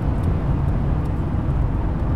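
A steady, loud engine roar with deep rumbling low end, continuous throughout, as a Lexus IS F accelerates hard, heard from inside the cabin as an extra intake channel opens.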